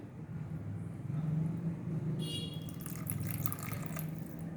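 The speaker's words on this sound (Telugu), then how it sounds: "కొంచెం వాటర్ వేస్తున్నాను." Water splashing and trickling into a bowl of dadojanam (curd rice), a steady liquid wash over a low background hum, with brighter spattering toward the end.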